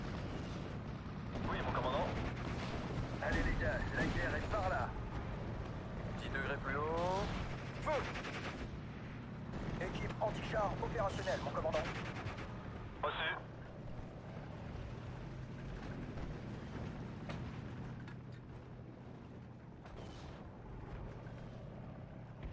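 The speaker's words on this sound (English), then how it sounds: "now the mortars are getting involved" Mortar fire in the WWII strategy game Steel Division: Normandy 44, Omaha map: dull booms and rumbling barrage sounds run under continuous talking throughout.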